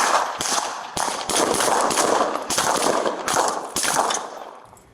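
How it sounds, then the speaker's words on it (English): Police officers fire a rapid series of gunshots on body camera, with sharp cracks clustered in bursts of several shots each over a few seconds, ringing and echoing before tapering off at the end. "You're going to hear the gunshots now."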